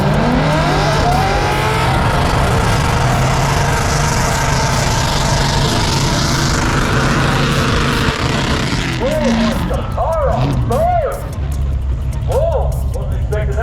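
A car accelerates hard toward a line of cones at a drag-and-burnout car show, its engine roaring loudly and continuously up close before easing off, with crowd noise and people talking over it.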